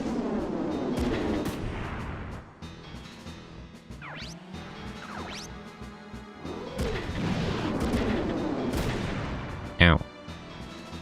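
Missile attack explosions in the mecha game Front Mission 3: a string of heavy booming blasts and crashes, ending in a sharp loud impact near the end, with a voice talking at points.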